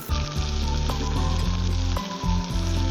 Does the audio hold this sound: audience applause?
no